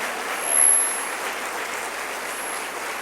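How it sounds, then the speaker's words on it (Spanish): Steady applause from a church congregation, a broad wash of clapping that swells briefly near the start then holds even, with no talking. "Dele otro aplauso."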